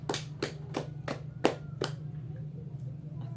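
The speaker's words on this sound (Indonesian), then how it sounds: "Tepuk tangan dulu karena kita semua hadir." Hands clap together in a classroom, six sharp claps at a steady beat, fairly close, before falling quiet over a constant low hum.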